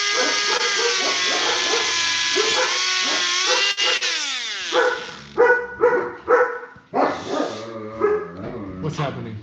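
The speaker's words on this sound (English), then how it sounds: "Dogs want to kill somebody." A loud power tool whines steadily during work on a figure, then cuts off. Several dogs nearby bark in repeated overlapping bursts, and someone briefly speaks.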